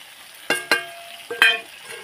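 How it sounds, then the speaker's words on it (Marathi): Chopped tomatoes being sautéed into chicken curry in a pan over a wood-fired clay stove. A few sharp spatula scrapes and clinks stand out over a faint, low sizzle. No one speaks. "आणि परतून घेते"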